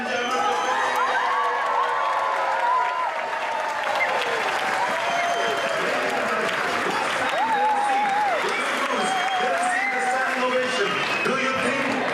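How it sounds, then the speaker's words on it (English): An audience in a cruise ship cafe keeps up loud, continuous applause mixed with cheering, shouting and screaming, with voices of the crowd throughout. "By round of applause again, shouting and screaming."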